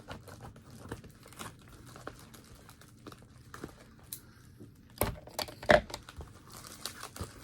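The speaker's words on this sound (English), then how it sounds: "Cutting the tape." Packing tape on a parcel being sliced and pulled apart, with scattered crinkly scrapes and rustles building to a few sharper close tearing bursts near the end, quiet overall and with no talking.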